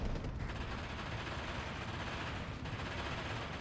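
Steady battlefield gunfire from the Steel Division 2 war game, rapid PPSh submachine gun bursts blending into a continuous loud rattle of small-arms fire with no pauses, no voices over it.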